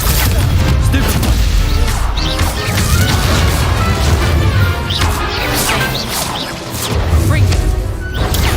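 Spell combat in Hogwarts Legacy with the Stupefy stun spell cast among other spells: loud, dense run of crashes, whacks and booming impacts with swishes over constant game music, no clear gaps.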